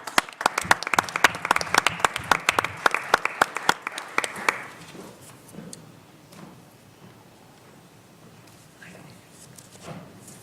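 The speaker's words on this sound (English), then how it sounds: "let's welcome her with a round of applause." An audience at a Women's History Month awards event gives an honoree a burst of dense clapping that stays loud for a few seconds, then fades into scattered claps and quiet room noise.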